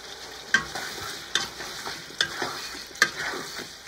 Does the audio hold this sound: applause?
no